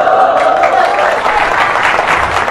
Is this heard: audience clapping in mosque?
yes